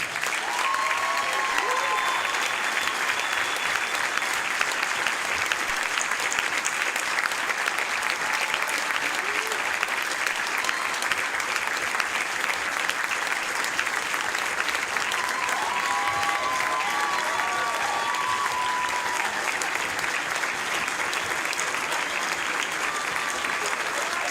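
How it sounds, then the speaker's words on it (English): Sustained applause from a school concert audience at a primary school jazz band show in honour of Earl Falcus, a steady dense wash of clapping lasting throughout, with faint tonal traces of voices or instruments underneath. "please give a round of applause to Earl Falcus"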